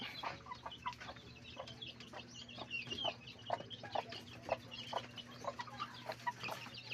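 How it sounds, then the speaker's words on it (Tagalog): Backyard chickens cluck in short, scattered bursts at a moderate distance, over a low steady background hum. "Lumabas yung isa natin na manok"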